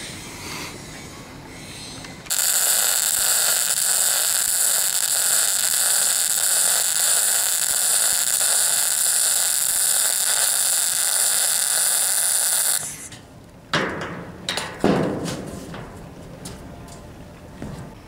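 Welding the outside seams of a houseboat wheelhouse frame gives a loud, steady, crackling hiss that runs for about ten seconds, then stops, followed by a few short bursts and clatter.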